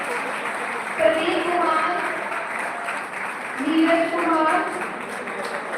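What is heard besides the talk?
audience applause for students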